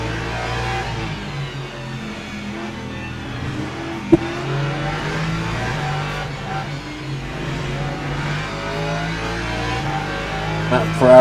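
A Ferrari race car engine in Le Mans Ultimate drones steadily with a strong, rising and falling rev note, with a brief sharp click midway and a louder surge at the end.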